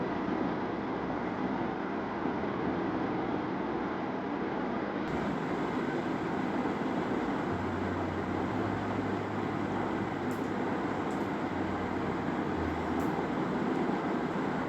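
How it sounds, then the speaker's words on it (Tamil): Samsung top-load washing machine's drain motor pulling water out during the spin cycle, a steady low mechanical hum and rushing drain noise that continues throughout, with a lower droning tone joining in partway. "ட்ரெயின் மோட்ரு நல்லா இழுத்துச்சு."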